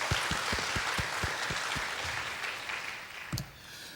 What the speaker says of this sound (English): So a round of applause for all the folks that have helped keep JRuby going.